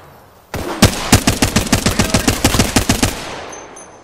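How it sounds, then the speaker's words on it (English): Automatic gunfire in a video game: a loud, close burst of about twenty evenly spaced rapid shots that starts abruptly, lasts nearly three seconds and ends with a short fading tail. "I am taking fire, friends."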